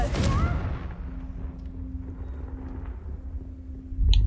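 A Confringo fire spell cast in the game Hogwarts Legacy: a sharp burst at the start that decays into a low rumbling tail with a faint steady hum, ending in another abrupt thud.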